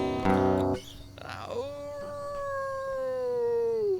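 A person's voice imitates a wolf howl, a long sustained tone that dips and then holds steady for a few seconds, preceded by a brief louder harsh burst.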